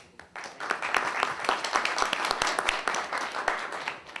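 Audience applause at an inaugural event of a social poster exhibition at the University of Toronto, a dense burst of many hands clapping that swells and fades over a few seconds.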